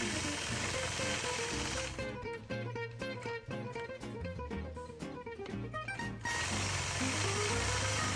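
A long arm quilting machine fitted with an extended base plate stitches with a rapid, rhythmic mechanical chatter in the middle stretch. Steadier motor hum comes before and after it.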